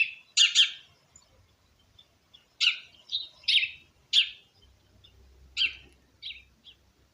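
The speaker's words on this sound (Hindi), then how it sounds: "आप विजुअलाइज भी कर सकते हैं इन बर्ड्स की आवाज़ को।" Birds chirping in short, bright bursts of tweets, several clusters spaced a few seconds apart against near silence, fairly close and clear.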